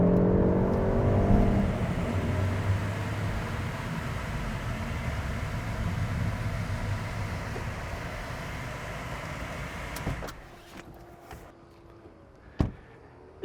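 A Peugeot 308 GTI engine pulls hard under way, a loud steady drone and road roar that carries for about ten seconds, then drops away to a quieter cabin with a few brief knocks.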